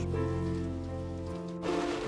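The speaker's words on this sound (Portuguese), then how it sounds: "A chuva e o vento sul marcaram as últimas horas." Rain falls steadily on a surface with a south wind, a dense continuous hiss with a low rumble throughout, on the coast near Bazaruto island, Mozambique.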